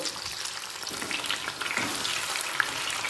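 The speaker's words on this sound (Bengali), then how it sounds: "দু পিঠি হালকা লাল করে ভেজে তুলে রাখবো" Chicken pieces for chilli chicken fry in hot oil until lightly browned on both sides, giving a continuous close, busy sizzle with scattered pops and a small clink near the end.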